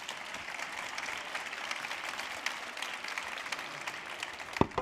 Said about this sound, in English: please give a round of applause to everybody